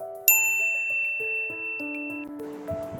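A bright notification ding, a single bell-like ping struck near the start whose tone rings on and fades, followed by soft musical tones.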